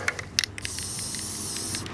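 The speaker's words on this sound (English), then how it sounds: "give it a spray" Short hissing bursts from a spray paint can aimed over a 5p coin, a few quick puffs and then one sustained close spray, loud and alone.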